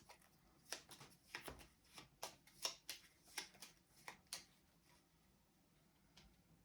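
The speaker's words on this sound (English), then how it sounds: "you get to shuffle that into your attack deck" Cards from an attack deck shuffled during a Jaws of the Lion board game session, a quick run of soft crisp riffles and taps, close and fairly quiet, fading out after a few seconds.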